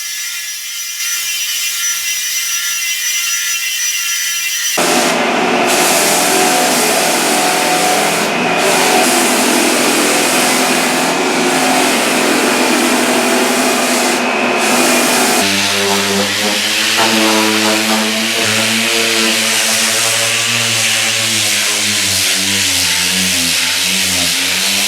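A floor sander with finer grit paper grinds across a hardwood floor, a loud, continuous close-up roar that shifts in pitch and texture partway through as the machine moves over the boards.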